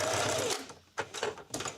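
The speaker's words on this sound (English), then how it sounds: "Holding the fabric flat as I sew it down." A sewing machine stitching fabric down onto rope for coasters and trays, a short close burst of needle strokes followed by two brief stop-start pulses.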